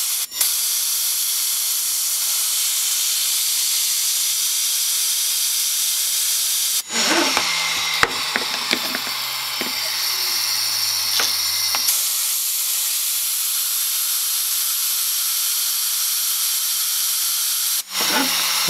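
A homemade Tesla turbine built from hard drive platters, one of them scratched, hisses loudly and steadily, with a harsher whining stretch midway where a tone slides downward as it spins.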